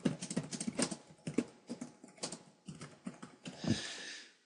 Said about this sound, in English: You can go ahead and type.